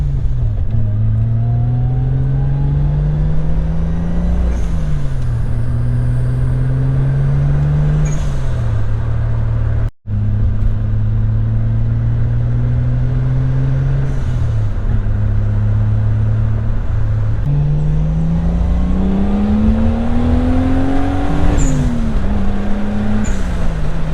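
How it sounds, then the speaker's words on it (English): An MK3 Toyota Supra with the 7M engine on a road drive, its engine rising through the gears in repeated climbing pulls with drops at each shift, loud and close, with a brief cut near the middle. "we're gonna take it for a quick test drive and see how it drives"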